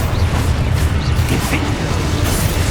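An Expulso spell goes off in Hogwarts Legacy with a deep rumbling burst and crackling debris, a loud, sustained blast that fills the short moment.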